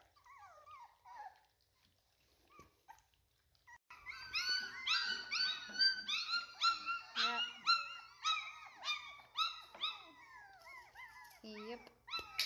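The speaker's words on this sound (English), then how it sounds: "It's so fun to have puppies, not so fun to have to clean puppies." A litter of puppies whimpers and yelps, a few faint cries at first and then a dense chorus of high, close squeals that runs without pause.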